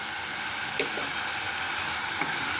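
Chole masala with Kashmiri red chilli powder and amchur sizzles in a pan, giving a steady, faint frying hiss, with a few light scrapes from stirring scattered through it.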